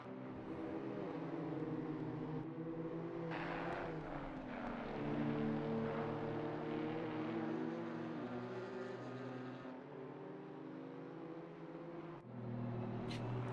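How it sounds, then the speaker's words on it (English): Race car engines in a GT4 racing video game at the Valencia circuit, a faint continuous tonal drone with shifting pitch as revs rise and fall, changing abruptly at a few points. "Now I'm like very interested in paying attention to car noises"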